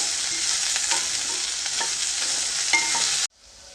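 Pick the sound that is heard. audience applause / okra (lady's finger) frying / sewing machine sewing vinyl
okra (lady's finger) frying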